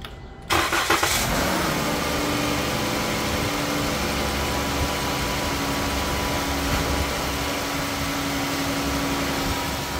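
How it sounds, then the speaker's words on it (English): A Dodge Grand Caravan engine cranks and catches within the first half-second, then settles into a steady, close idle that runs on unchanged for the rest of the stretch during heater core hose work. "To speed the process, I'm gonna start the car"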